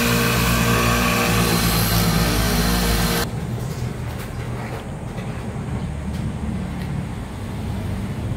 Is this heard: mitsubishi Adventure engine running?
yes